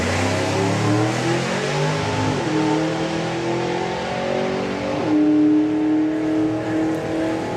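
A Hemi-powered hot rod makes a drag racing run, its engine revving hard with rising pitch through shifts near 2.5 and 5 seconds, loud and close with no talk.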